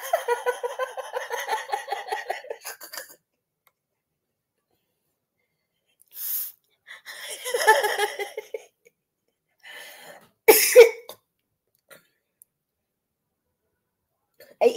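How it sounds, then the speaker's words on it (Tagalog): Someone speaks, then after a pause a few short, sharp coughs and throat-clearing sounds come in scattered bursts, close to the microphone, with long silent gaps between them. "Ay, ihiti na naman ako na ubo nito."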